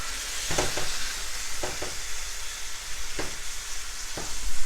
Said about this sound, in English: you just want to brown up your meat decently